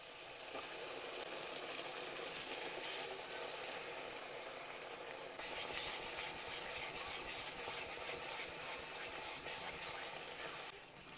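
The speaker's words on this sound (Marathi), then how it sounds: "सो आता मस्तपैकी तेल सुटेपर्यंत मंद आचेवर या मसाल्याला आपण भाजून घेऊया." Masala paste fries gently in oil over a low flame, giving a soft, continuous close sizzle and hiss with faint bubbling throughout.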